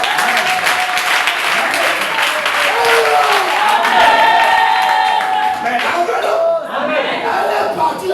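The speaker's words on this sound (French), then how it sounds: "Acclame le frère." Crowd applause fills a church service hall, a dense, steady clapping that carries strongly for several seconds with voices mixed in, then thins slightly toward the end.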